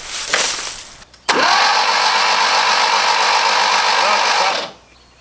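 Engine of an abandoned Fiat barn find cranking over: after a brief whir and a sharp click, a loud, steady churning whir runs for over three seconds, then stops abruptly.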